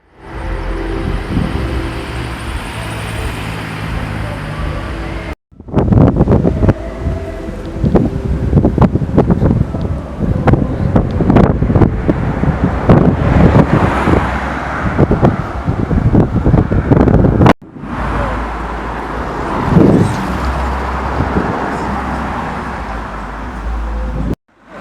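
Strong wind on a blustery day in Essex buffets the microphone, a loud continuous roar with gusty rustling that stays heavy throughout and breaks off twice abruptly.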